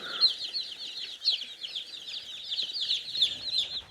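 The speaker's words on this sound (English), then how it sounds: "We've got day-old, 3-week-old, and 6-week-old Cornish Cross chickens" Cornish Cross chickens on a farm, a flock of day-old to six-week-old birds, give a steady chorus of high chirping and cheeping with soft clucks, close and continuous, with no talking.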